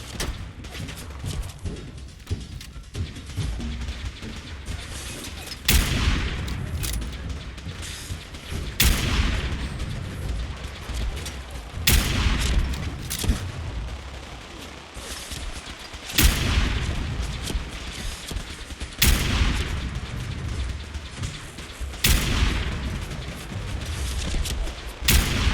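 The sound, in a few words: missiles exploding in the video game Fallout 4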